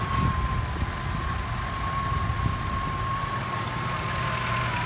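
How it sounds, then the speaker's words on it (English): A car engine idles steadily with its drive belt removed while a pulley fault is investigated, a continuous even running hum with a faint high whine, nearby and alone without talk. "take the belt off and run the engine without the belt."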